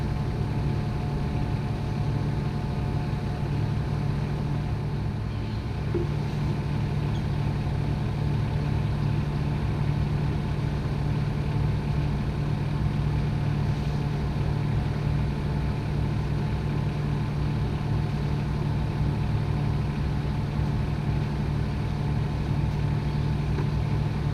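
Marine diesel engine of a sailboat running steadily at sea off Palamós in the Mediterranean, its water pump leaking, giving a continuous low droning hum with no voices.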